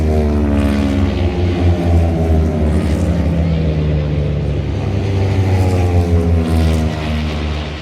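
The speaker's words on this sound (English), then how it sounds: "Helicopters coming." Loud, throbbing rotor and engine drone of an approaching helicopter at the Northwest 200 motorbike races near Portrush, steady and close, with faint crowd noise beneath.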